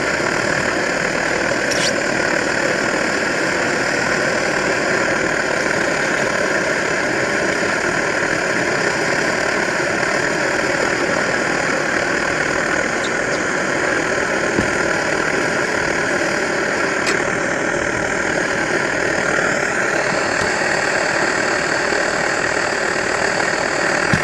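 An Optimus SVEA 123R brass camp stove burns steadily under a half-liter pot during a boil test, a constant roaring hiss with a faint pulsing undertone that continues unbroken, close and fairly loud, with no talking.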